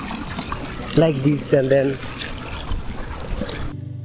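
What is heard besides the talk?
clean stream water trickling around a camp in Ladakh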